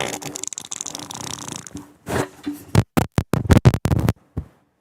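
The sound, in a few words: fart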